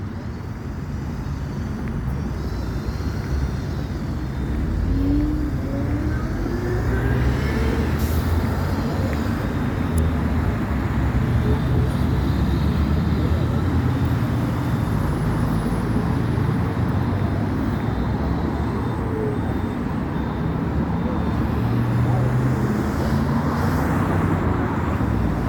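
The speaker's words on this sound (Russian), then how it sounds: "Очень много машин и маршруток." Steady roar of dense street traffic in central Grozny, many cars and minibuses passing continuously at moderate distance, a constant broadband rumble with occasional louder swells and no speech.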